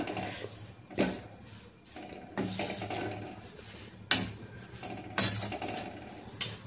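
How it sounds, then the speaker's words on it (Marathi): Grated coconut dry-roasting in a pan over low gas, with a spatula scraping and clinking against the pan in short, uneven bursts and a faint background hiss. "हे खोबरं आपण आता भाजून घेऊया"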